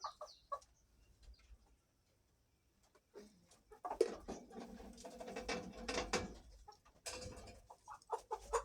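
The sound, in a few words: poultry birds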